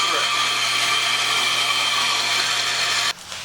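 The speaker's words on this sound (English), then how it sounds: "The bandsaw really is the closest thing to a hand tool in the power tool realm" A band saw cuts through a wooden board in a workshop, giving a steady, fairly loud whirring hiss that runs on and then drops off abruptly near the end.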